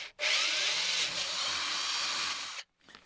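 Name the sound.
pilot drilling through aluminium and steel, Land Rover Defender step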